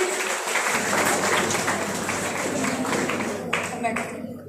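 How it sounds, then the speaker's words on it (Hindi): Audience applause for students at a school motivational seminar, a sustained wash of clapping that fills the hall and tapers off near the end, with some talk mixed in. "तालियों से बच्चों को प्रोत्साहन दीजिए प्लीज।"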